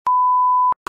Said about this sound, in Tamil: எத்தனை பீப்பு போறது?